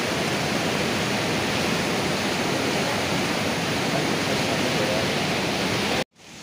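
The waterfall at Sahastradhara roars after heavy rain, a loud, dense and continuous wash of rushing water that stays constant throughout and stops abruptly at the very end.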